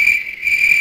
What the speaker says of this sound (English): Cue the crickets now.